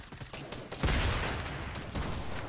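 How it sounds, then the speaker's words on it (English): A burst of rapid gunfire from a shooter video game crackles close and loud for a couple of seconds after a brief quieter lead-in, with no talk. "Now they're shooting at me."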